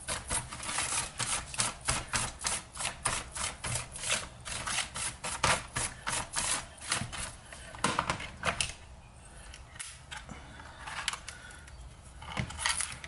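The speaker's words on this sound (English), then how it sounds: "You grab a brush here and I'll brush some of this trash off." Rapid bristle strokes sweeping debris off an IBM Model M keyboard, a steady run of close, scratchy brushing bursts with a brief pause before it resumes.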